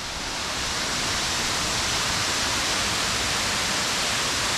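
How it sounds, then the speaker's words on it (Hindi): Waterfall on the Madhmaheshwar trek route in the Himalayas pours milk-white water in a steady, loud, broadband roar that fills the scene alone, with no voices. "मार्ग का पहला वाटरफॉल,"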